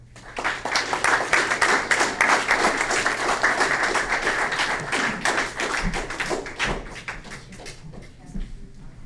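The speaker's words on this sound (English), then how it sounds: "So, a round of applause for everybody." A small group at a Scout troop Court of Honor claps briskly, the individual claps distinct and close, tapering off toward the end with a few thuds mixed in.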